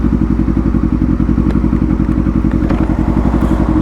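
A motorcycle engine runs loud and steady as the bike rides over a bridge, with a rapid pulsing thrum and a few light thumps and clatters on top, no talk.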